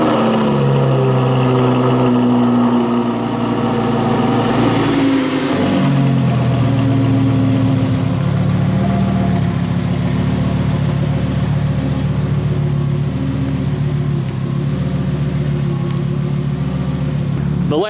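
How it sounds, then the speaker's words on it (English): A Lamborghini cold-starts with a loud rising rev, then drops into a steady, rumbling idle. The engine sound is sustained and close, with faint talk in the background. "Lamborghini cold start."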